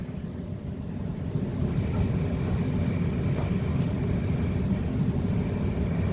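A Sydney Trains T3 B-Train running between Liverpool and Lidcombe, heard from on board as a steady low rumble of wheels and motors that swells slightly louder, with faint high squeals.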